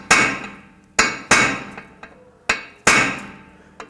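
A punch tapped with a hammer against the screws of a front brake rotor on a 2011-2014 Hyundai Sonata: six sharp, ringing metallic strikes about half a second apart, loud and close, each decaying quickly, with no talking.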